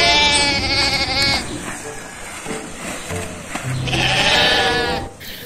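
Sheep bleating at a zoo or animal park, a few harmonic bleats loud and close, with a second call later, over background chatter and ambient noise.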